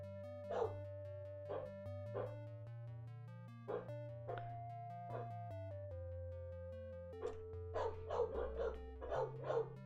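Several pet dogs bark and yip indoors in short, repeated bursts, fairly faint, over a steady tonal backdrop of game music, with a quicker cluster of barks near the end.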